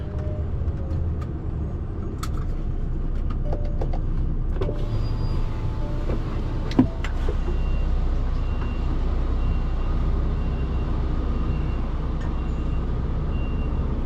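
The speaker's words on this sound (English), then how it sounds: "So I need to reverse it to the right, turn around, and then straight into there." A lorry manoeuvres in reverse in a London yard beside another truck, its reversing beeper sounding in faint repeated tones over a steady, loud engine rumble, with a brief sharp knock midway.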